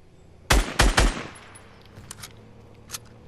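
Gunfire in the video game Fortnite, three sharp, loud shots in quick succession followed by fainter, more distant pops, with no talk over it.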